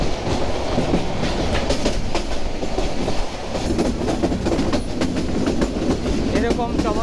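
Tista Express passenger train running on rails through countryside, a steady loud rumble with rhythmic clickety-clack of wheels and occasional brief squeals, continuous throughout.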